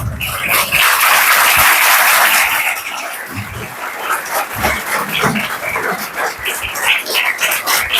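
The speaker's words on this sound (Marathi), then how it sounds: "तुम्ही सगळ्यांनी टाळ्या वाजवायच्या." An audience claps at a lecture ceremony in a coaching class hall, a dense burst of applause that fades into scattered claps, with a dog barking nearby.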